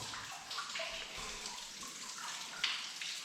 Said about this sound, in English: There's kind of a waterfall here coming into the cave.